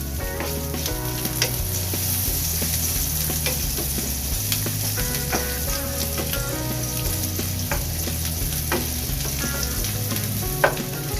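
Garlic sizzles steadily in a hot pan, a continuous crackling fry with a few sharper pops, carrying on without pause over a low, steady musical drone underneath.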